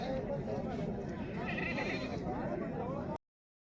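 Goats bleat loudly and continuously in a dense, crowded chorus at a large village goat market in Bodegaon, with people talking underneath before the sound cuts off abruptly.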